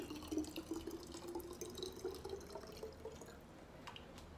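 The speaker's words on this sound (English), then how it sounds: "And I'm going to fill it up with some warm water." A faint, quiet trickle of warm water runs into a bottle, with soft drips and no talking.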